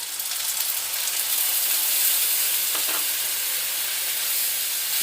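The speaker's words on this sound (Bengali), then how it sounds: "ভালো করে নাড়াচাড়া করে নেব, যাতে মশলাটা মিশে যায় একদম।" Soaked red chilli and cumin powder paste stirred into frying rui fish with raw mango in a pan, a continuous close sizzle and hiss with a brief scrape of the spatula partway through.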